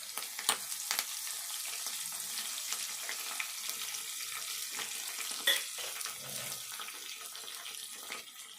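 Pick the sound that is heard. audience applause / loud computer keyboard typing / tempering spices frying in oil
tempering spices frying in oil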